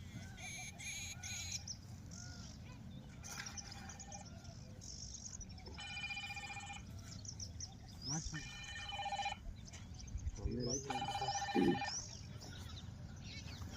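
A telephone rings in repeated electronic bursts, fairly close, with chirpy tones and background voices around it, during a kabaddi practice session.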